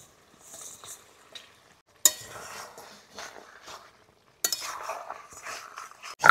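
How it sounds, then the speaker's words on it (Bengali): Fried katla fish pieces go into a pan of lightly watered curry, giving soft bursts of sizzle with scraping and stirring clinks from a utensil, quiet and intermittent. "এবার ভেজে রাখা মাছটা দিয়ে দিচ্ছি।"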